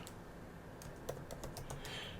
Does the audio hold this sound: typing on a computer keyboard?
yes